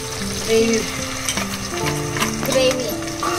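Tomato gravy sizzles hard in a pan while a spoon stirs it, making a steady, loud frying hiss with scraping stir strokes. Soft music plays underneath.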